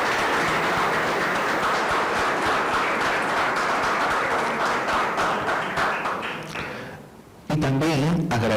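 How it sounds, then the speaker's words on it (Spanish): At an academic conference on constitutional law, an audience gives a sustained round of applause that thins out and fades, then a voice starts speaking. "a quien también recibimos con fuertes palmas"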